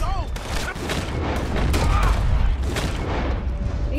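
Gunfire in the Red Dead Redemption 2 video game: a rapid string of sharp shots and booms packed together over continuous game noise, fairly loud, with no talking.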